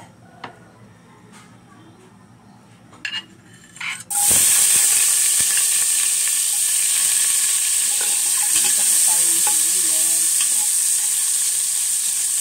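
Garlic sautéing for a mung bean dish, first with a few soft knocks and clinks, then a sudden loud hiss and sizzle as it hits the hot oil, continuing strongly with light stirring.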